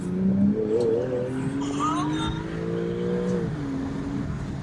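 A Porsche engine hums steadily nearby, its tone rising and falling slightly as it revs, with people talking over it throughout.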